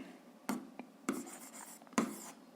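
Pen or chalk strokes while an algebra equation is written out, three distinct scratchy strokes about half a second apart, quiet and close with no speech.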